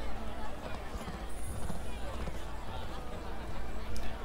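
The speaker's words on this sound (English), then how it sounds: "stepped on by a horse." Horse hooves clip-clop in the online role-playing game Justice Online. The trotting is faint and sits beneath a dense, constant wash of game ambience.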